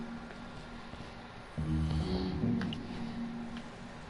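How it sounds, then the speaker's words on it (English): A character snores once in the Minecraft Story Mode video game, a low droning snore swelling up midway and fading, close and alone over quiet background. "even his snore makes him sound like a know-it-all."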